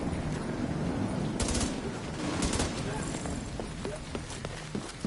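Bursts of gunfire from The Division 2, including an MP5 submachine gun, crackle in sharp, repeated volleys, loud and near, with a player talking over parts of it.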